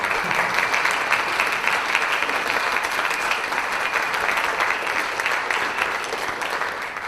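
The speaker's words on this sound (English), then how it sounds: "Let's give another round of applause to Juan Dalmau." A lecture audience gives a sustained round of applause for a speaker on Puerto Rico's independence, a dense, even, loud clapping that fills the whole stretch without talk.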